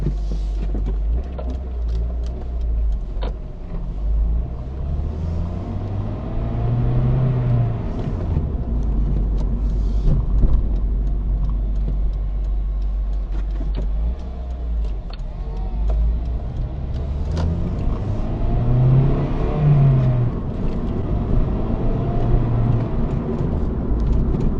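A car drives along a road, with steady tyre and engine rumble, occasional bumps and faint rises in engine note as it moves through traffic; continuous and fairly close, no one speaks.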